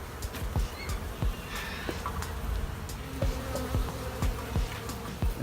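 Bees buzz past in short, intermittent bursts as they fly out of a brick wall, over a faint outdoor background, with scattered small clicks and taps.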